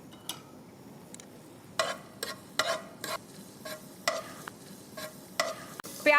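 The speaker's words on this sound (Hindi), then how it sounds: "हम उसमें डालेंगे बहुत थोड़े मात्रा में अनियंस, बारीक कटे हुए, वेरी लिटिल, और उसे हम सौटे कर लेंगे" Finely chopped onions sauté in a small amount of hot oil with a quiet, steady sizzle, broken by sharp scraping and tapping strokes of a spoon in the pan.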